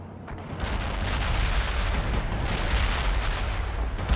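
Dense, continuous battle din from the World in Conflict Soviet assault near Eatonville: rolling artillery booms and gunfire layered into a steady roar, loud and sustained with repeated sharp bursts throughout.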